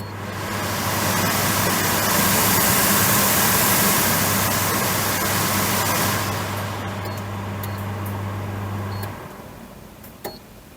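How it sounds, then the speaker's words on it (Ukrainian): A stainless steel Fabiano BoxPro Silent Inox kitchen range hood motor runs with a steady, loud airy whoosh and low hum, then cuts off, leaving a quieter room with a few small clicks. "На прикладі цієї витяжки ми можемо почути роботу двигуна."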